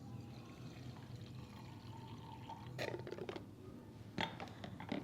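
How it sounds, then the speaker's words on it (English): Water is poured into a container while mixing a DNA-extraction reagent for strawberries, giving faint, quiet splashing bursts in two short pours with no talking. "First we'll add the water."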